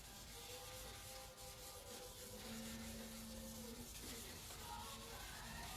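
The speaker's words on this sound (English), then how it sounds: "Keep your sandpaper wet." Wet sandpaper rubs back and forth on painted exterior glass trim, making a steady, close, gritty scrubbing hiss.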